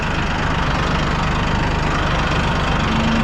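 Massey Ferguson 1E.40 compact tractor engine running steadily in second gear, low range, with a constant close diesel drone and no talk.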